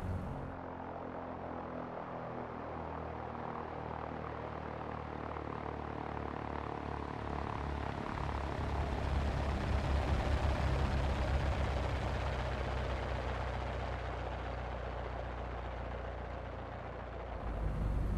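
A Cessna 172 SP's propeller engine drones steadily in X-Plane 11 during a landing replay, rising slightly in the middle as the aircraft touches down.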